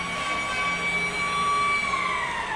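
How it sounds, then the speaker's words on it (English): An ice hockey arena siren sounds to end a period in a 1987 playoff game between Quebec and Montreal, a loud sustained wailing tone that holds steady and then slowly drops in pitch, heard alone. "And the siren goes."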